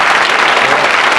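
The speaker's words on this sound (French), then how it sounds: "Allez-y, applaudissez un petit peu." A French television studio audience applauds in a loud, dense, continuous wash of clapping that fills the whole brief moment without a pause.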